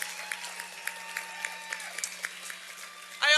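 Scattered clapping from an audience at a Rockland Community College commencement ceremony, light and steady, swelling into a louder burst of applause right at the end.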